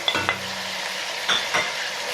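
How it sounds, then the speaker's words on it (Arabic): Onion sautéing with meat in a pan for Egyptian okra with meat, a steady sizzle under occasional scrapes and stirs of a utensil against the pan, with no talk. "وهبدا اشوح البصل مع اللحمه"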